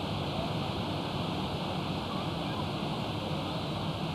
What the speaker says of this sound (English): Discover the way waterfalls quiet city noises and provide a cool, refreshing breath of fresh air.